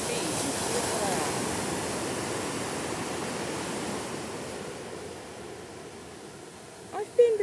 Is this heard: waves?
yes